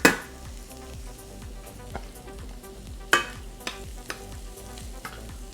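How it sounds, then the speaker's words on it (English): Garlic, about two tablespoons, frying in a pan for a global cuisine dish, with a steady close sizzle broken by several sharp scrapes and taps of a utensil against the pan, no voices. "About 2 tablespoons of garlic, about equivalent to 2 cloves. And that's going to finish cooking here in just a second."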